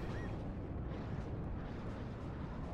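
Rockets from an airstrike exploding in the Warno wargame, a continuous dense low rumble of blasts that stays loud and steady throughout, with no talk.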